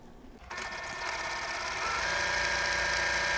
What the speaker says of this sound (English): Flip it around and stitch on the other side just to the inside as well.